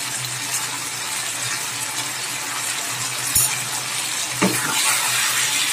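Chicken pieces stirred with salt in a pan on the stove give a steady soft sizzle with faint scraping, plus two brief sharper clinks of a utensil against the pan near the end.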